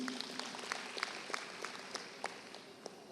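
An audience at a national elective youth conference claps in a brief, moderately distant burst of applause with scattered sharp hand claps.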